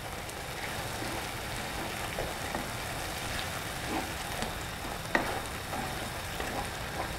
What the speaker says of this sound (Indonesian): Ini kita tumis dulu bumbunya sampai mateng, sampai harum ya